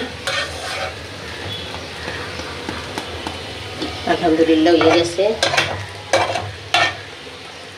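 A bean and potato vegetable bhaji sizzles and fries in a wok while a utensil scrapes and stirs it in several loud strokes near the end, with a brief spoken remark.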